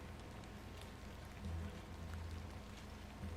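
Steady, dense rainfall patters evenly throughout in an evening scene of the adventure game The Excavation of Hob's Barrow, with a faint low rumble swelling briefly underneath.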